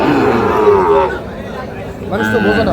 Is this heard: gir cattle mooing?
yes